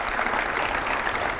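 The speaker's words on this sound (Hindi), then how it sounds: "जोरदार तालियों से स्वागत करिए" Loud, continuous applause from an audience welcoming Nitin Gadkari, India's road transport and highways minister and Nagpur MP, at a public event. The dense clapping holds steady throughout.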